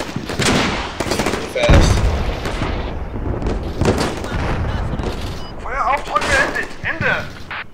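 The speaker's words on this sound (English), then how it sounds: "I know the capabilities of a 23 millimeter autocannon that fires" Fast bursts from a 23 mm autocannon in Combat Mission Shock Force, sharp booming reports and rattling fire of varying distance, mixed with explosions under steady spoken commentary and radio chatter.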